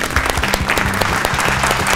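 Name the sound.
loud applause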